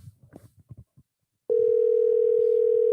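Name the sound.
phone call ringing out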